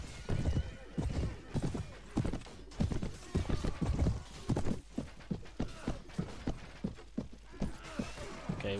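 Cavalry horses in the strategy game Clash of Kings, their hooves clip-clopping in a steady, close rhythm, with a whinny near the start and faint creaking mechanisms underneath.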